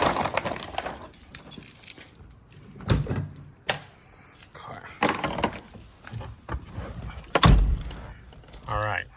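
Keys for a Jeep Wrangler jingle and clatter close up in several separate bursts, with sharp metallic clinks and quiet gaps between, and a voice speaking briefly now and then.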